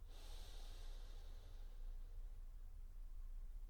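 A person takes a long, deep inhale during a breathing exercise, a close, steady airy rush lasting a few seconds at low volume, with no talking.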